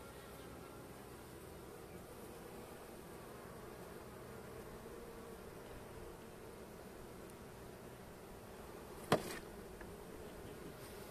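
Honey bees hum steadily at an open hive frame in January near Trabzon, a dense even drone filling the air for the whole stretch, broken once by a brief sharp knock near the end.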